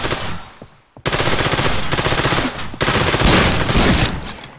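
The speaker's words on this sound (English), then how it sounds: "Wasn't expecting them to have machine guns, but okay." Sustained machine gun fire in the video game Trepang2, loud dense bursts that rattle on almost without a break after a brief pause, with no talk over them.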